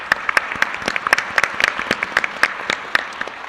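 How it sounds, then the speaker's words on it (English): A small panel-event audience applauding, with sparse individual claps standing out in an uneven, fairly close patter, loud and brief, with no talking. "So a round of applause for everybody that made this happen today."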